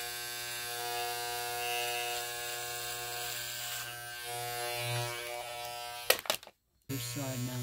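Electric hair clippers buzz steadily while shaving a head, a close continuous motor drone that cuts out abruptly near the end before resuming.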